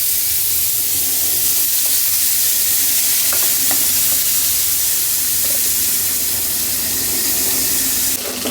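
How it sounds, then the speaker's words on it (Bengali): A fish head coated in salt, turmeric and chili powder fries in hot oil, giving a loud, steady, close sizzle that runs unbroken throughout with faint clinks over it. "মাথাটাকে ভাজা ভাজা করে নিচ্ছে"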